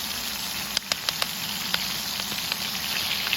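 Butter sizzling in a pan over a campfire in the woods, a steady close hiss with a quick run of sharp pops and crackles early on, then scattered spits, no voices.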